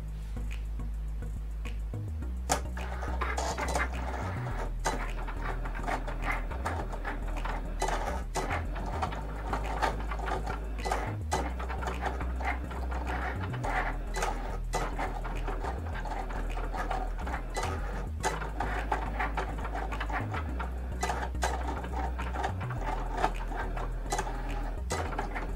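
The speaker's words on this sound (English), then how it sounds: "the Cricut machine is going ahead and cutting out the image that I've already placed and attached together" A Cricut cutting machine cuts a permanent vinyl image for a reusable bag, giving a steady mechanical whir with a repeating rhythmic motor pattern and small ticking clicks, close and continuous with no talk.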